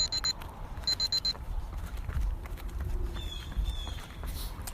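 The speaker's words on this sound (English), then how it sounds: "change the sound of the alarms that tell you when to stop and go or change interval" An interval timer app's alarm sounds as short, high electronic beep bursts, two clusters early on, followed by fainter tonal chirps later over a low background rumble, with no talking.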